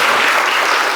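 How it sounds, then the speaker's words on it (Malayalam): Loud, steady applause from an audience at a talent festival inauguration, dense clapping filling the whole moment without pause. "ഒരു നല്ലൊരു കൈയടി കൊടുക്കും"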